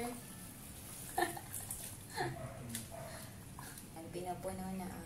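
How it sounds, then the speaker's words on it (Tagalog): Water pours into a drum packed with bundled leaves, set up for growing volva mushrooms at home, a continuous splashing flow with some voices in the background. "Pinapuno na ng tubig ang drum."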